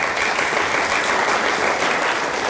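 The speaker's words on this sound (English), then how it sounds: "let's give a round of applause for" Loud, dense applause from an audience fills a museum hall at an annual art prize lecture, a continuous even roar of many clapping hands with no break.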